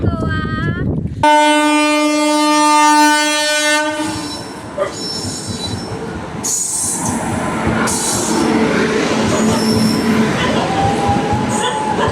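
A passenger train running from Goa to Mumbai sounds a loud, sustained horn blast, then its wagons rumble with rhythmic clickety-clack and squealing wheels, with voices talking faintly over the ongoing rail noise.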